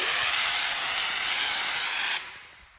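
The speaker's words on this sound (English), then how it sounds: "Now you've sprayed that about 24 inches back, and you're gonna let that dry for a little bit." A spray gun hisses steadily as it applies orange peel texture to a wall, a loud even airy rush that cuts off near the end, leaving quiet, with no talking.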